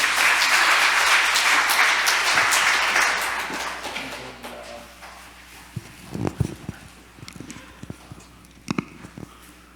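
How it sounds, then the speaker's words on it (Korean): Church congregation applauding at a Korean worship service: a loud burst of clapping that swells and then fades over a few seconds, followed by scattered thuds and small knocks in a quieter room. "박수로"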